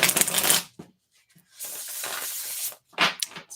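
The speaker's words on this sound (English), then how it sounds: "I like to shuffle 7 times." A tarot deck being shuffled at close range, with crisp riffling bursts of cards separated by short pauses of near silence.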